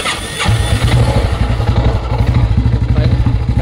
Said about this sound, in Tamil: பைக் ஆஸ் யூஷுவல் ஸ்டார்ட் ஆகிடுச்சு.